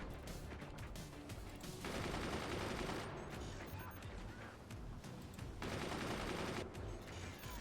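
Sniper weapons fire in the physics-based strategy game Forts, dense bursts of crackling shots and impacts in sustained volleys that stop and start, with a voice talking over the battle.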